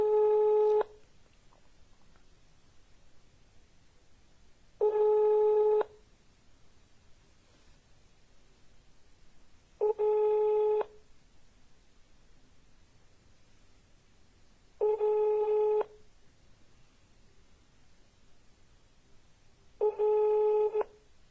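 A telephone line tone after dialing: five one-second tones spaced evenly about five seconds apart, clear and alone over faint line hiss, with no voices.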